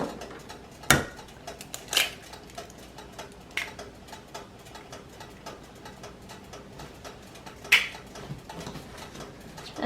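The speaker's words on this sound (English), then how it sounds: "Now I'm going to take 2 eggs and put them in my mixing container." Two eggs cracked into a mixing container in a home kitchen, with a few sharp, separate taps and clicks spaced across a quiet background.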